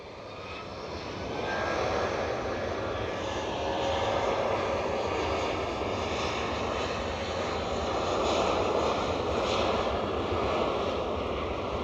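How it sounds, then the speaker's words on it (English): An Airbus A320-200 departing Edinburgh Airport, a loud, sustained jet engine roar that swells after the first couple of seconds and stays strong, heard fairly close with no talking. "A320-200 on the way out."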